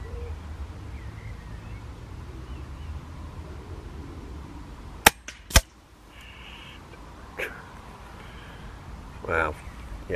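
A Daystate Huntsman Regal air rifle fires a single pellet outdoors, a sharp crack followed by a quick second snap, set against wind noise, with faint distant sounds afterward.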